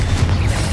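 A deep, booming blast from the Confringo fire spell bursting in Hogwarts Legacy on Xbox, a heavy low rumble that fills the brief moment at close range with no voices.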